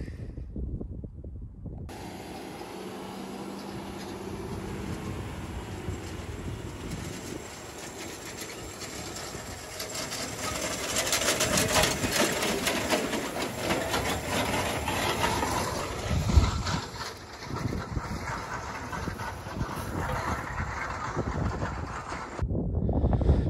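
A Simba Unipress with an Elita drill on the back working a field to establish oilseed rape, giving a steady broadband tractor and machinery rumble with rattling that swells midway and runs continuously, with no talk.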